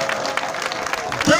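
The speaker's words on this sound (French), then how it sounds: "On les applaudit encore très fort" An audience at a donation event claps for donors, a dense, steady patter lasting the whole moment, with a voice talking over it.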